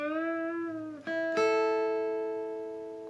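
A first-position pentatonic guitar lick plays alone as a few clean picked notes: one held tone, a quick change near the one-second mark, then a bright new note left ringing and slowly fading.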